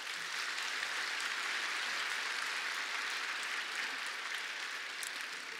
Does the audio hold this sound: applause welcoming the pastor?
yes